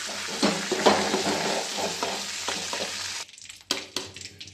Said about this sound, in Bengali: শিমটা আমার হাফ ভাজা হয়ে গেছে